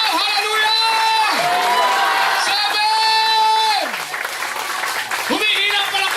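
Church congregation at an anniversary celebration clapping and shouting praise, a full sustained roar of applause and cheering voices, with a loud amplified leader calling out over the crowd throughout.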